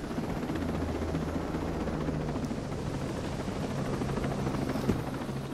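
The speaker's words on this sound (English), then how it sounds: "Leave the helicopter here." A helicopter in Ghost Recon Breakpoint thrums steadily and loudly throughout, its rotor chop and engine roar constant and close, with no talking.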